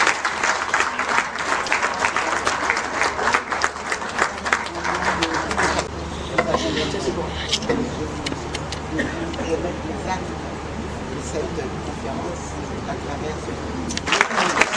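Dense audience applause rings out at a regional conference on women, peace and security, loud at first, then thinning into lighter scattered clapping with background murmur before swelling again.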